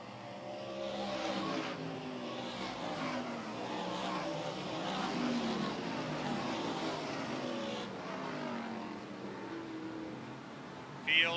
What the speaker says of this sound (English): Field racing down the backstretch off of 3 and 4.